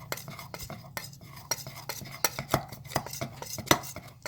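Slime being mixed in a bowl with a utensil, soft wet squelches and sharp clicks against the bowl in uneven strokes, close but quiet, with no one speaking.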